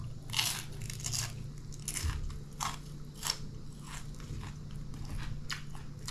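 Close-up crunchy bites and chewing of crispy fried fish, repeated crackling crunches at an irregular pace over a low steady hum.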